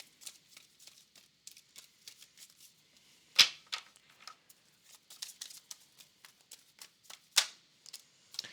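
Tarot cards being shuffled and pulled, quiet close riffles and flicks in uneven bursts, with a couple of sharper slaps of cards.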